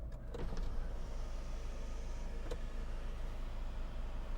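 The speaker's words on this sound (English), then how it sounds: "tilt and slide electric sunroof" The electric tilt-and-slide sunroof on a 2013 Hyundai ix35 whirs quietly and evenly as its motor runs, with a faint click near the start and a steady hum continuing to the end.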